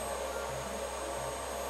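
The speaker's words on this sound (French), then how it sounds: "Je diminue maintenant la puissance de l'aspirateur" A vacuum cleaner hums steadily and evenly, a moderate continuous whoosh with no voices over it.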